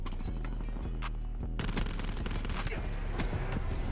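Call of Duty gunfire: a rapid train of sharp shots opening, then a sudden loud burst of fire with overlapping cracks and clatter that stays dense and close to the end.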